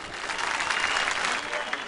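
An audience breaks into applause as a Turkmen singer is introduced on a Turkish television stage, a full, even roar of clapping that holds steady throughout.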